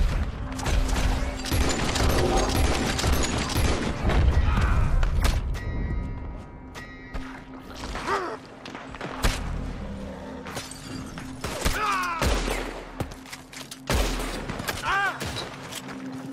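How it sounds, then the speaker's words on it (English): Gunfire aimed at the player in the video game Red Dead Redemption 2, a dense fusillade of loud shots early on, then scattered cracks, clanks and creaks amid a steady hum. "Standing out in the open and just getting shot at is not a good idea."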